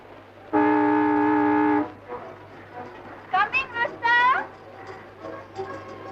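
Old car horn honking once in a long, loud, steady blast, followed by voices talking.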